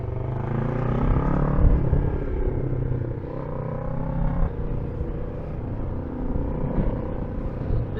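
A Kawasaki ER5 motorcycle with a new clutch kit sets off on a ride, its engine rumbling and revving up through gears, close and fairly loud with wind noise, no talking.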